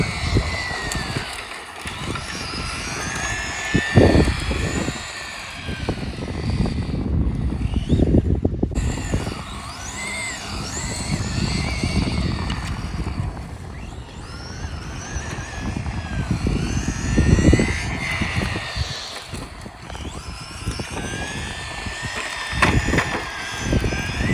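An Arrma Infraction 1/8 scale RC car on a 3S setup with a high-KV motor, geared high, whines and surges in repeated bursts as it runs, with loud tire and gravel rush rising and falling.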